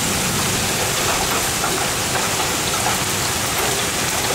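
Hail pounds down in a dense, continuous roar during a nighttime supercell thunderstorm in Verona, loud and unbroken with no voices.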